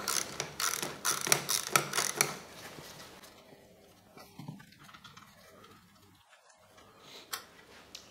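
Screws on the battery compartment of a BMW R 1150 GS motorcycle being loosened with a ratcheting tool, a quick run of close clicking bursts for about three seconds, then quieter scattered taps and handling noises.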